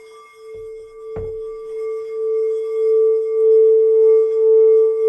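A metal bowl is struck once after a light tap, then rings on with a pure, sustained tone that slowly swells and wavers.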